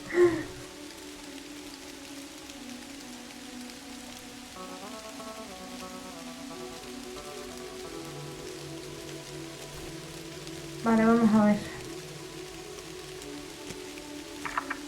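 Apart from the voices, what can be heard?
rain in a video game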